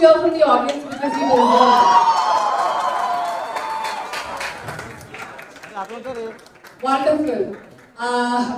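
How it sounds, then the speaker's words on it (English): An event audience at a film success celebration lets out a loud cheer. A swell of crowd shouting and cheering builds and carries for several seconds, with a voice speaking over it before and after. "Can we all have a loud cheer from the audience"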